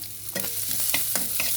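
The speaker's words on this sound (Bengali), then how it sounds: "দেখুন, এবার আমি রসুন চপ দিচ্ছি।" Chopped garlic sizzling steadily in hot oil in a pan, with a constant hiss and a few soft scraping stirs, close and fairly quiet with no voices.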